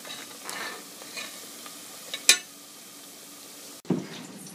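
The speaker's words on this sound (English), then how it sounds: "Our brown onions, sorry, the yellow onions are fried in this manner, in this pot with all the oil here." Sliced yellow onions deep frying in plenty of oil in a pot make a faint bubbling sizzle, punctuated by a few sharp stirring clinks and a thump near the end.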